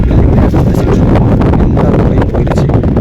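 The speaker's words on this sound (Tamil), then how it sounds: "காற்று" Strong wind buffets loudly and continuously on Velliangiri mountain, with gusty rumble and rustling close by.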